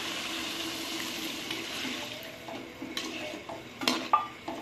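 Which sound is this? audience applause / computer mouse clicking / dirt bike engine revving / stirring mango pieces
stirring mango pieces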